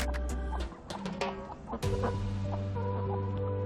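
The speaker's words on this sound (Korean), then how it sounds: "작은 덩치에 서열도 낮은 흥부는 암탉들에게 전혀 매력적인 수탉이 아니다" Hens and a rooster cluck in short, overlapping bursts over a steady low hum, with a few sharper calls standing out; the birds sound close and busy.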